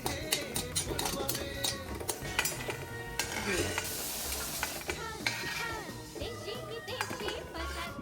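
Vermicelli for kheer sizzles steadily while it browns in a pan, with a spoon or spatula stirring and scraping continuously throughout.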